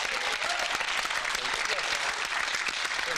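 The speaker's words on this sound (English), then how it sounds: "Give her a round of applause." A studio audience on an ITV game show applauds a contestant, with sustained, bright clapping at full volume throughout and a faint murmur of voices mixed in.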